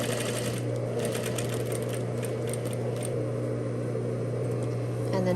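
A sewing machine stitching a quarter-inch seam along a welt pocket with French seams, a loud, steady motor hum with rapid needle chatter running continuously up close.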